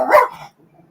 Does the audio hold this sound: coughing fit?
no